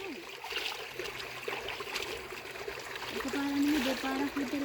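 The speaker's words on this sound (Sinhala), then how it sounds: "මේ සුන්දර ලස්සන ඇල එහෙමත් දැක්කත්" A small mountain stream at Bandarawela flows with a steady trickling, gurgling wash, close and continuous, while a person talks over it.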